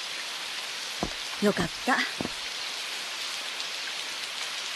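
Steady rain falls throughout, a dense broadband hiss filling the scene, with a few brief spoken words in a quiet voice near the middle.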